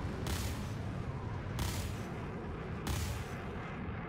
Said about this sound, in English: Alright, ooh, double missile.